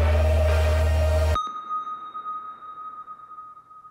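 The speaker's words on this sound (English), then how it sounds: "sounds like a spaceship" Loud dense music from a country-album song cuts off abruptly, leaving a single sustained electronic ping-like tone that rings on steadily, giving a sci-fi spaceship effect.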